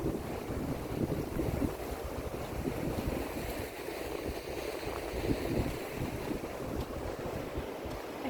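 Wind gusts during an outdoor walk, buffeting the microphone with a continuous low rumble and hiss at a moderate level, with no talking.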